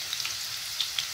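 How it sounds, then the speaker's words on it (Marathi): Spices sizzling in hot oil as tempering for a dry bitter gourd curry, a close, steady crackling hiss with a few sharper pops. "ही बघा मस्त अशी आपली फोडणी आता होणार आहे"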